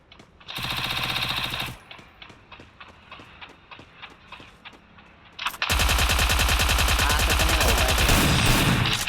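Short-range gunfire in the mobile battle game Free Fire: a burst of rapid shots, then a run of separate single cracks, then a long loud sustained volley of automatic fire.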